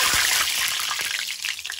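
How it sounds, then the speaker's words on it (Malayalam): Mustard seeds frying in hot oil make a dense, close sizzle with scattered small pops, short and continuous. "അപ്പൊ എണ്ണ ചൂടായി, ഇനി കടുക് വറക്കാം."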